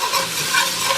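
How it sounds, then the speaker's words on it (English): Garlic hits a hot pan and sizzles in a loud, bright, continuous hiss heard up close. "Now I'm going to put in a teaspoon of my garlic and add that to my pan as well."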